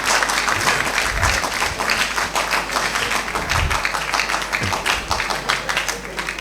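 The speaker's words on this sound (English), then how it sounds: "This is the loudest clap I've heard this morning." A room full of people at an entrepreneurship launch event claps loudly and continuously, a dense, close burst of applause with a few heavier thumps, holding steady for about six seconds over a low hum.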